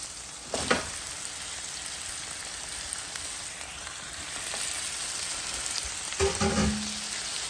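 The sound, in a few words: chayote added to a sizzling pan with mussels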